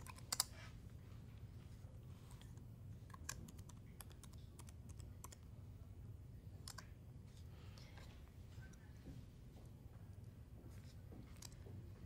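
Quiet, irregular typing and key clicks on a computer keyboard, with scattered taps over a low background hum.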